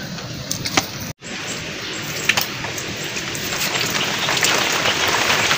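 Steady rain patters across the clip, a dense hiss with scattered droplet ticks, growing slightly heavier toward the end.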